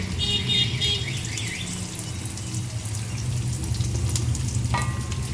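Chopped green chillies frying in a pan while cooking chilli cauliflower, a steady close sizzle and crackle with faint clinks of stirring and a brief tap-like rush near the end.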